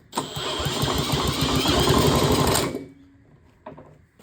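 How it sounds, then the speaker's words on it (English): A Hayter Harrier 41 petrol lawnmower engine is cranked over for about two and a half seconds with a dense, rapid mechanical chatter, then it stops. Only faint clunks follow, and the engine does not catch. "So let's turn the engine over and see what we get."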